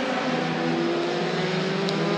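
Euroformula Open single-seater race cars scream through the fast chicane at the Hungaroring, a loud sustained engine wail with layered pitches as several cars pass in close succession.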